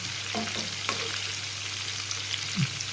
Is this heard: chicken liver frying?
yes